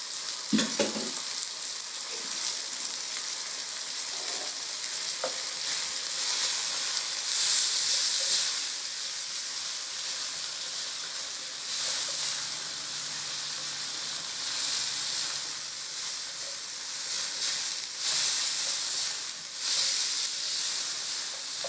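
Garlic frying in a pan for lumpia and pancit, a loud, steady hissing sizzle that holds for about twenty seconds with a few stirring knocks near the start.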